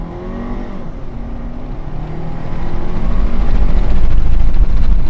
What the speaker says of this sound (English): And so we'll put into sport mode. We'll give it a little acceleration test.